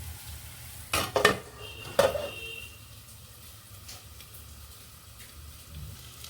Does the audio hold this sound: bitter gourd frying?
yes